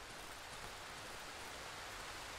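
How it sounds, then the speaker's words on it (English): Steady rain falling in the video game Darkwood, a dense, even hiss of downpour with no talk and no other distinct sounds. "Oh, it's raining."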